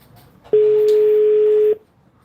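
A single long steady telephone tone sounds loudly for about a second while a call is being placed, with faint background noise before and after.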